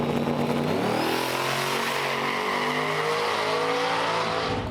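A race truck's engine revs hard and climbs in pitch as it accelerates through a test pass at a drag strip, loud and close with no voices.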